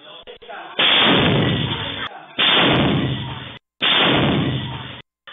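A grenade explodes in a street in a residential area of Mandaluyong City, heard as loud, booming, rumbling bursts that repeat about three times with brief gaps between them.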